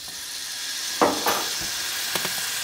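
Minced meat sizzles in neutral oil in a pan, a constant close hiss broken by a few brief scraping clicks.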